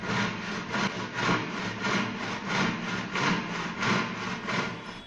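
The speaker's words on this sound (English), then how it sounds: "portable mechanical saws," A saw cuts through wood in a steady back-and-forth rhythm, each stroke a loud rasping pulse, repeated continuously.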